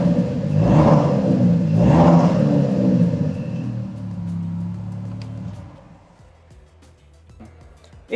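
Two sharp throttle blips from a Maserati MC20 3.0-litre V6 rise and fall in quick succession, then the engine hums at idle before dropping away to near quiet.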